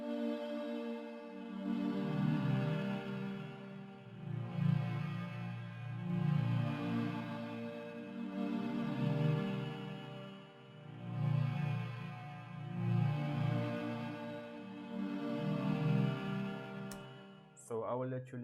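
A soft synth pad slowly sways between two or three sustained chords in an Afrobeats-style beat, swelling and fading in a steady cycle with low warm tones and a brief higher flourish at the very end.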